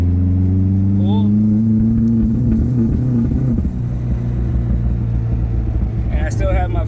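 A Mazdaspeed 3 engine at full throttle in second gear with a fueling problem, a steady loud droning rumble that holds then sags as it loses power, with someone talking over the engine throughout.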